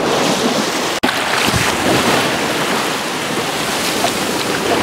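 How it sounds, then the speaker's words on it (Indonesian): Loud, continuous rushing surf at Padang-Padang Beach in Bali, with wind buffeting the microphone, waves washing in without pause. "Ombaknya lumayan kenceng di sini."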